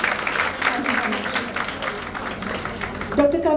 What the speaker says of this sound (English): I think we can give ma'am a huge round of applause.